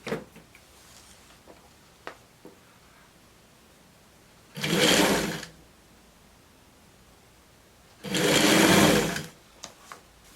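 Sewing machine stitching a blouse with a tulip sleeve in two loud whirring bursts, each about a second long, separated by quiet handling clicks and small bumps.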